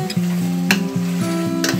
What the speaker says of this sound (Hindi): और इसको अच्छे से भूनते हैं।